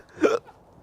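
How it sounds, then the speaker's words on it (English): A single sharp hiccup from a man who has just swallowed hot sauce, loud and close, catching in the throat with a brief voiced gulp, then quiet room tone. "he's getting the hiccup"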